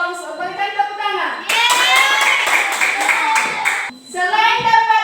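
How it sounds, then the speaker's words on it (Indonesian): A classroom of students claps for the winning quiz team, a burst of close, dense clapping lasting about two and a half seconds, with spoken voices just before and after it. "Berikan tepuk tangan."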